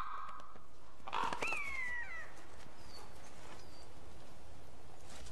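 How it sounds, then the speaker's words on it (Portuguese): A few harsh crow caws ring out over steady outdoor background noise in a Siberian clearing, crows feeding on a dead mare, one louder call near the start and fainter ones after, no speech. "Numa clareira próxima, os corvos se beneficiam da morte de uma égua prenha."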